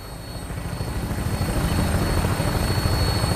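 In Fallout 4, an aircraft on final approach to an airport gives off a loud, steady rotor-like thrum with rhythmic chopping pulses and a faint high whine, growing slightly louder, with no voices.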